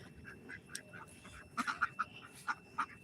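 Farm ducks quacking in a short burst of loud, close calls near the end, with scattered fainter quacks earlier over a low outdoor background.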